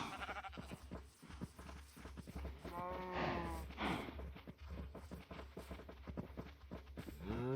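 Minecraft cows and other farm animals mooing and bleating in short repeated calls over a steady low hum, with footstep-like clip-clop taps throughout; one clear call stands out mid-way.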